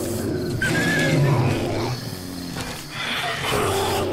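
A bear fighting dogs in the video game 7 Days to Die: loud growls and roaring snarls overlap with a tonal whine and scuffling noise, the clash continuing steadily throughout.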